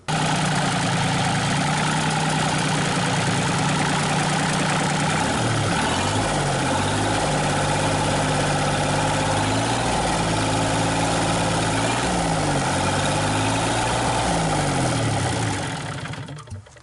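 A Cummins A series diesel engine, fitted to a PC40-6 track hoe in place of the original Yanmar, idles loudly and close up with a steady, slightly pulsing rumble before cutting off at the end.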